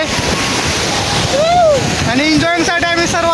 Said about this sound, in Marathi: हे बघा मित्रांनो, तर इकडे पुन्हा समुद्र आहे